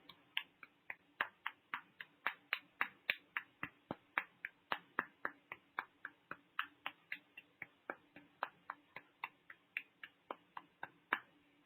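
Fingers clapping against the opposite palm in a steady, even rhythm, roughly three sharp, close pats per second, continuing for about twelve seconds with no talk.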